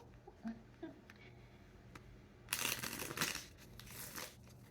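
A deck of tarot cards is shuffled: soft handling clicks first, then a dense rustling riffle lasting about a second, close by and moderately loud.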